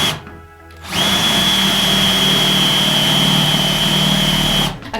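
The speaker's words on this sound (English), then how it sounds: "I'm gonna go ahead and drill a little hole in there" A power drill whirs steadily at close range for about four seconds, starting abruptly after a brief pause and cutting off at the end.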